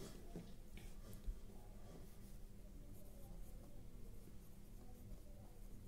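A pen scratches faintly across paper in short strokes, quiet and close, with a soft tap partway through.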